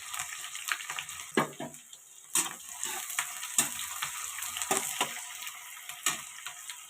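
Lengthwise-sliced large onions fry in hot oil in a pan, giving a steady crackling sizzle with sharp pops and scrapes scattered throughout, close and fairly loud, with no talking.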